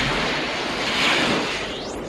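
A broad roaring whoosh like a jet airplane taking off, loud and sustained for a couple of seconds, ending with a rising whine, with no voices.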